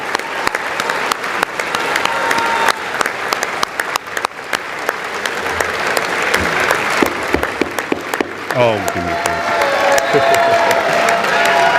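A large audience claps and cheers loudly and continuously in a hall for a State of the Union event, with whoops rising over the steady applause and a voice speaking briefly beneath it.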